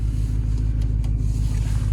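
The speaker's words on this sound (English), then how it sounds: "Blower works, getting some heat." A heater blower fan runs steadily inside the cabin of a 1988 Range Rover Classic, a constant low hum and rush with no talk over it.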